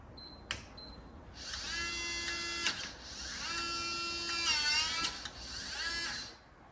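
A Hugolog HU03 smart lock's motor calibrates with a series of whining, pitch-sliding motor runs and short beeps, separated by brief pauses, close and quiet.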